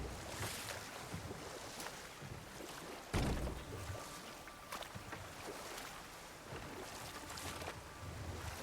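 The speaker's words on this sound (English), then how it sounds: "Waterfalls" Waterfall in the God of War Ragnarök video game: a faint, steady rushing roar of water with a distant, wide wash and one sudden thump partway through.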